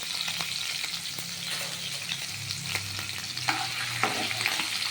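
Fish fries in mustard oil with a constant, dense sizzle and crackle, and soft stirring scrapes come through near and steady.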